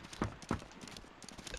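Two hoof clops from a horse in the video game Valiant Hearts, close and fairly soft, followed by quiet background ambience.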